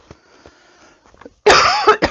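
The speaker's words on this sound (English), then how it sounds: "I'm coughing these days." After a quiet stretch with faint clicks, a single harsh, close cough bursts out, followed by a brief second catch of breath.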